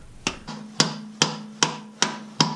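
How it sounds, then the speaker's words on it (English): Hammer strikes driving a part into place during a Ford Mustang clutch job: six sharp, evenly spaced whacks with a ringing metallic tone, close and loud, with no talking. "you stick this guy in here and give it a couple good whacks"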